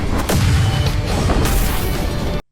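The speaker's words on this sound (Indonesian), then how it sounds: "si putri langsung mengaktifkan ledakan api di senjatanya" A fiery weapon blast in an anime fight, a loud booming burst with crackling roar that sustains for about two seconds before cutting off abruptly.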